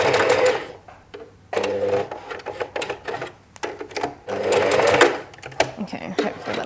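A sewing machine stitches wedding dress fabric in short bursts, its rapid close mechanical whirr starting and stopping several times, with a voice talking quietly during the pauses.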